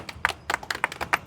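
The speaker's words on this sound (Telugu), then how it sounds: "క్లాప్స్ కొట్టండి బాబు" A small audience gives a few scattered, uneven claps over about a second, close and fairly quiet, at a No Helmet No Entry traffic-rules event.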